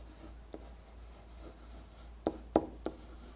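A pen scratches and taps faintly across a SMART Board interactive whiteboard, with soft scraping strokes and a few sharp clicks near the end in a quiet room.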